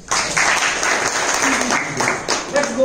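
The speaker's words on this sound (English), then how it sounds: "We'll give a clap for these ones." A seventh-grade class claps for classmates after a human heart activity, a brief steady burst of many hands from nearby, with a few voices mixed in near the end.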